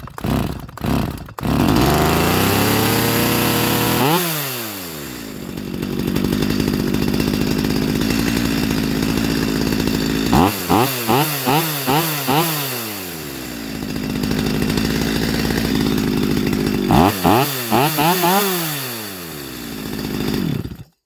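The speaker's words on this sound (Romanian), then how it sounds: "Ok, după ce am încălzit drujba," A warmed-up chainsaw engine runs steadily and loudly during carburetor L and H adjustment, revving up sharply three times with a rising whine before settling back to a rough idle.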